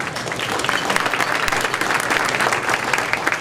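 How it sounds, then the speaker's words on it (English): A banquet crowd applauds the board president at a teachers' awards evening, steady dense clapping filling the room throughout without letting up. "So we'll give him a big round of applause"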